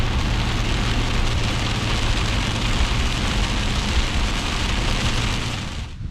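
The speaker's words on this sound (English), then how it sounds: "we ended up driving through a strong storm, heavy rain, strong winds" Heavy storm rain pounds steadily on a Four Wheel Camper Hawk shell while driving, a dense, loud, unbroken roar with road rumble underneath that eases slightly at the very end.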